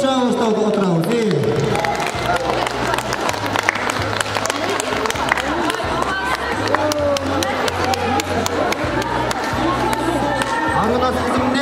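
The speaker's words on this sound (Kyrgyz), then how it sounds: "колдоп кол чабып отурабыз" Audience at the Altyn Balaty 2023 show claps steadily and cheers throughout, loud and dense, with crowd chatter and voices mixed in under a low repeating musical beat.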